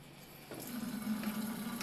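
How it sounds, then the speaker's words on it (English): Water runs from a kitchen tap for hand washing, starting abruptly and flowing steadily at close range for under two seconds, with no talk. "I'm gonna wash my hands."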